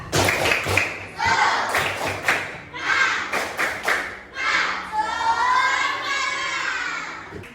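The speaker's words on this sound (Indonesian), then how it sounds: "yuk kita tepuk semangat dulu" Primary school class in Indonesia doing a rhythmic clapping chant, tepuk semangat, with bursts of group clapping alternating with children's voices chanting in unison, loud and close.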